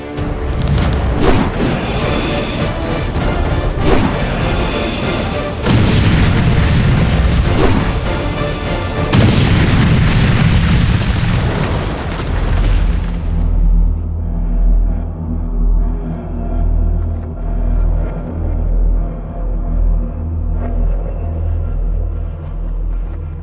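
Arrow-shot explosion effects from a Ramayan TV battle scene, loud booming crashes and rumbling blasts layered with dramatic score, ending in a sustained low orchestral drone.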